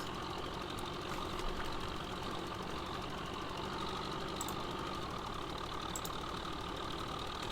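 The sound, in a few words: tractor engine idling in a video game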